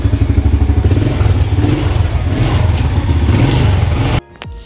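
A 2021 Yamaha Jupiter Z1 motorcycle engine idling while hot, with a rapid ticking clatter running over the steady rhythmic chug, loud and close, before it cuts off abruptly near the end.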